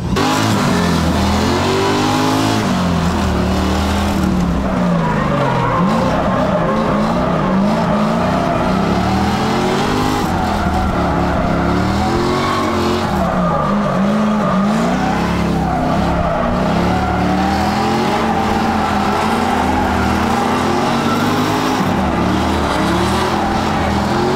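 An LS-swapped Mazda Miata drifts with a loud, unmuffled V8 exhaust, revving and surging in waves while tires squeal continuously, close and overpowering for the whole stretch.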